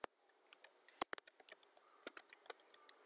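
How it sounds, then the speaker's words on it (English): Fingers tap out an email address on a computer keyboard, a quick irregular series of crisp close key clicks with short pauses between bursts, no speech. "So I will type someone's email address."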